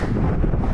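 Strong wind buffeting the microphone at a hilltop while roller skating, a steady loud low roar that fills the whole moment without a break.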